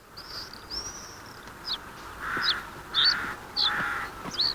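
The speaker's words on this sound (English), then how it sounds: "When a potential egg thief like the carrion crow arrives," A carrion crow caws repeatedly in short, harsh calls at a moderate distance, several in a row with brief gaps, over quiet outdoor background.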